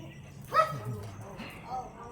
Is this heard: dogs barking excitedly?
yes